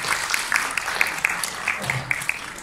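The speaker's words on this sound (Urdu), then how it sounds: "تو یہ تالیاں بجا رہے ہو" Children at a puppet show clap together in a steady patter of applause, close and fairly loud, running for the whole few seconds.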